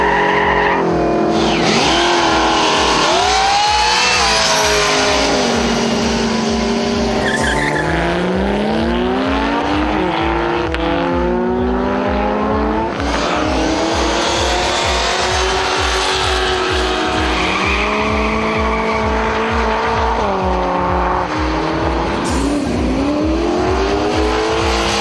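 Japanese import sports cars racing big V8s at an off-street event, with loud continuous engine roar, rising and falling revs through gear changes, and tire squeal throughout, close and without talk.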